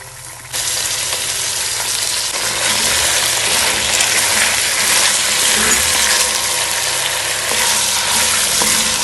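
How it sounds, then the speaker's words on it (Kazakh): Meat frying in oil in a kazan for a Kazakh nan salma dish, a steady loud sizzle that starts abruptly after a brief quiet moment and continues unbroken, with faint clinks and stirring noises underneath. "қазанға май құйып, етімізді қуырып аламыз"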